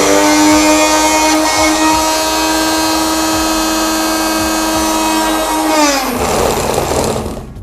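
A La' Forte Lavite Cherie mixer grinder runs loud and steady with its blade fitted, giving a sustained motor whine that winds down near the end as it stops.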